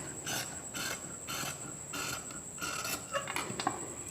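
Scissors cut through blouse fabric for a size 40 pattern, making a quiet, regular crunch of snips about twice a second that grows quicker and more uneven near the end. No voices are heard.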